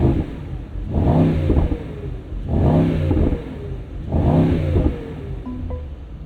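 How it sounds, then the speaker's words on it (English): A 2024 Mercedes-AMG GT 63 V8, parked, revs three times in quick succession, each raspy, grunty blip rising and falling back to a low idle rumble between them, up close and with no voices. "We'll give you a couple revs here."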